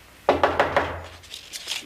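Knocking on a door in a TV episode: four quick, evenly spaced knocks, fairly close and clear, followed by a couple of fainter soft taps.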